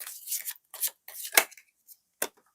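Tarot cards are drawn and slid from a deck in several short, crisp, papery swipes and flicks, close and separated by brief silences, with no talking.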